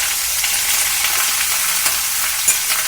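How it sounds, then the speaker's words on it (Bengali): Pumpkin cutlet mixture being stirred slowly in a pan, a close, even hiss of frying with soft scrapes and an occasional light knock, no voices. "এইভাবে আস্তে আস্তে নাড়তে থাকবো, নিচটা ওপরটা নিচ করবো"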